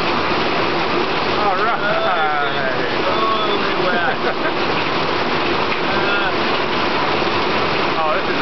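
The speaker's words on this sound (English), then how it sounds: "You like this rain?" Heavy rain pours during a storm at a Costa Rica beach house, a loud continuous hiss with people talking and children's voices over it.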